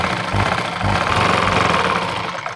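A sewing machine runs a finishing stitch right along the edge of a salwar hem, giving a loud, steady motor whir with low knocking thumps throughout.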